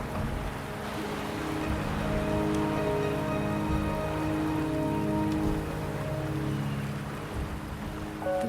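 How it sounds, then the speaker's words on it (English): Steady rainfall patters on surfaces in a game setting, a continuous dense hiss of drops with a low droning hum underneath, fading slightly near the end. "The rain is subsiding"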